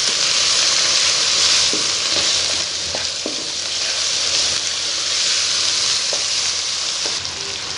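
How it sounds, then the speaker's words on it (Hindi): Turmeric, chili powder and salt roast in a pan with a loud, dense, continuous sizzle up close, broken by a few light utensil taps, with no talking. "ये सभी मसाले हम इसमें ऐड कर देंगे और इसको अच्छे से यहाँ पे हम इनकी भुनाई करेंगे मसालों की।"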